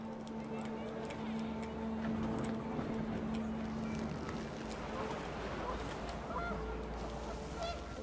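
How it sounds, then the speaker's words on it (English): Panicked geese honk repeatedly in the video game What Remains of Edith Finch, their calls layered over wind and a dense, steady ambient bed with a sustained low tone throughout. "The wind picked up, and panicked geese appeared and quickly went."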